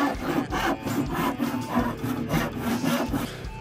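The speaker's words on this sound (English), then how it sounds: "so he's hand sawing it" A hand saw rasps back and forth through a wooden table in steady, rhythmic strokes, close and fairly loud, with no voices.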